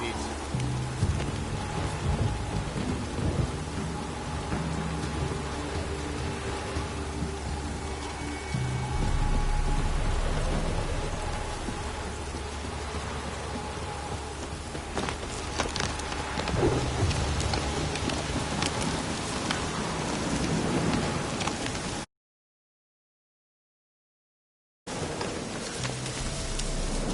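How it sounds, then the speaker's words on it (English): Steady heavy rain pours down in The Witcher 3, Velen, with low rumbles of thunder throughout, a continuous wash of noise broken by a brief silent gap near the end. "This downpour's a bastard, it is."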